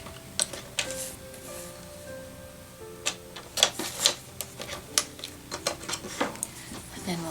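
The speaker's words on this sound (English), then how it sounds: "so I'm going to cut this at 4 inches" Paper for a handmade holiday card is trimmed with a series of small crisp clicks and snips that start sparse, then quicken into a busy run of light taps near the end.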